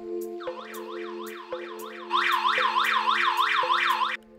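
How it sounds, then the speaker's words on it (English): A PNI SafeHouse HS110 wireless gas sensor sounds its alarm: a loud electronic warbling siren pulsing in a repeating wavy pattern. It steps up sharply in volume halfway through, then cuts off abruptly near the end. "the detector emits an alarm sound and transmits a wireless signal to the compatible alarm system"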